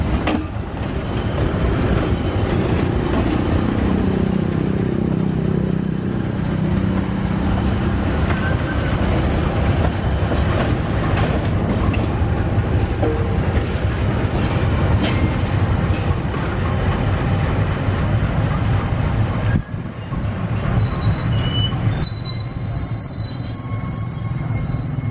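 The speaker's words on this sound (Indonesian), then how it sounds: "ini lokonya mau langsir di stasiun Sukoharjo" A locomotive shunting at Sukoharjo station while hauling a ballast train backward: steady loud rumble of the engine and rolling wagons with squealing wheels, close by, ending in sharper high-pitched whines.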